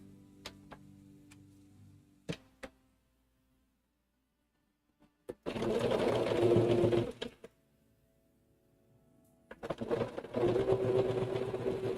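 Home sewing machine running in two sustained bursts of a few seconds each, a close, loud whirring hum with steady needle ticking, preceded by a few sharp clicks and a near-silent gap.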